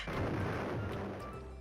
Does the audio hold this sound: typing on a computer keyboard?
no